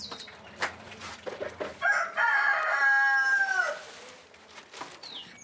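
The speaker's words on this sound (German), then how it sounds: "Wir haben Gänse, Hühner und einen Hahn. Den habt ihr ja gerade schon krähen gehört." A rooster crows once, a long drawn-out call close by, with faint farmyard noises from geese and chickens before and after, on a farm in Peru.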